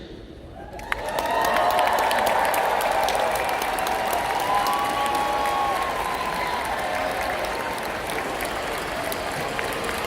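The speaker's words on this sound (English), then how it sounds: "if you made changes to your robot after the first competition, stand up and cheer" A large crowd of robotics competition students and coaches at a VEX IQ world championship bursts into sustained cheering and applause, loud and steady for several seconds with high whoops rising above the clapping.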